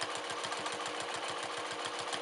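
A quilting machine stitches a clamshell pattern in a steady, rapid mechanical chatter of evenly spaced needle strokes, close-up and continuous with no speech.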